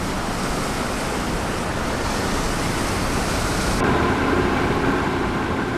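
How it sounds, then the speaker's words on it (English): Steady, heavy roar of ocean surf, broad and continuous, with a rumbling wash of breaking water and wind noise throughout. "compared to the first wave, the waves following it are much more powerful."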